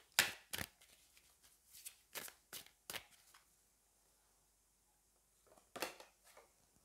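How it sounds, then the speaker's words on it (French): Cards from the Wisdom of the House of Night oracle deck being shuffled and drawn, several crisp riffling bursts close by, then a pause and one final flick. "on va prendre une carte du Wisdom of the House of Night"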